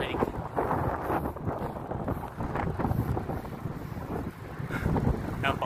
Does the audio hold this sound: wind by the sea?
yes